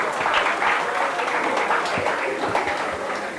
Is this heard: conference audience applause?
yes